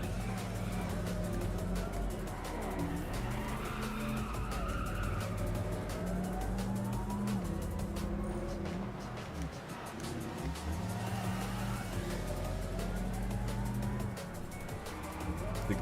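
Car engine revving and driving at a motor festival, a loud rising and falling engine roar with gear-change steps, close by and continuous.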